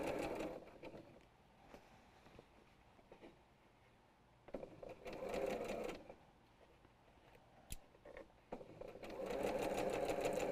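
A sewing machine stitches a quilt panel in several bursts of rapid mechanical whirring, separated by quieter pauses, close and fairly soft.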